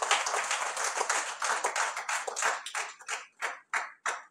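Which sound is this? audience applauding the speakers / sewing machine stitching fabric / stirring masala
audience applauding the speakers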